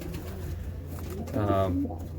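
A silver checker racing pigeon, a hen, gives a short burst of soft cooing while held in the hand, rising briefly over low room noise near the end.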